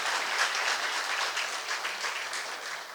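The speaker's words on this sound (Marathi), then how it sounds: "आपण त्यांचं स्वागत टाळ्या वाजवून करूयात" An audience claps to welcome a speaker at a lecture event, dense steady applause from many hands filling the room for the whole stretch and tapering slightly at the end.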